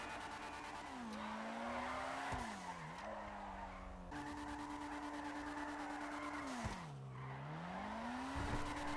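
Engine drone with long, wavering tire squeals as a Dinka RT3000 slides through drifts in GTA 5 Online, pitch bending up and down; game-like and continuous.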